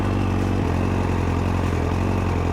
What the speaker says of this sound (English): But as soon as I start the engine,